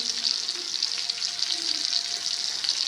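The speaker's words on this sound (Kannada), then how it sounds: "ಫ್ರೈ ಆಗ್ತಾ ಉಂಟು ನೋಡಿ" A big fish fries in hot oil in a steady, hissing sizzle, continuous and even, close up with no talk over it.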